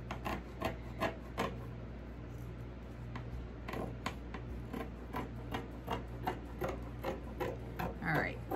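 Scissors trimming drop cloth fabric up close: a series of short, crisp snips and rustles at an irregular, fairly steady pace over a low background hum.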